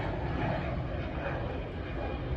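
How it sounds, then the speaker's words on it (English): Jet airliner engine roaring steadily at Philadelphia International Airport, a loud continuous broadband rumble and hiss from an aircraft nearby, with no talk. "I heard like the jet noise from like over there"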